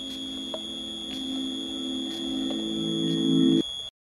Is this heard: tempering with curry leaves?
no